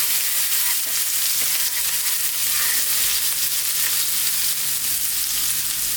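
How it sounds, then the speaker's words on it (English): Garlic and ginger fry in hot oil for a vegan ginger cabbage stir fry, a steady, loud, hissing sizzle that continues unbroken with no talking. "We're going to start off by dropping in our garlic and our ginger, and I just want to throw them around just for a few seconds to infuse that oil"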